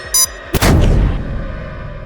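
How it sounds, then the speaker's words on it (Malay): A pair of glasses blows up as a sound effect: a short high beep, then a loud sudden blast that rumbles and fades over about a second and a half. "Cermin mata tu meletup."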